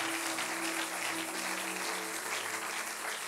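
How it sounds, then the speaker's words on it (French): A church congregation applauding at a French-language sermon, a steady, even wash of clapping throughout with a faint sustained organ or keyboard tone underneath. "Est-ce qu'on peut acclamer pour"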